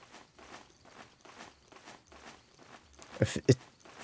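Footsteps in the video game Metal Gear Solid 4 sound as soft, regular steps at a walking pace, faint and close, ending in a couple of louder scuffing thuds.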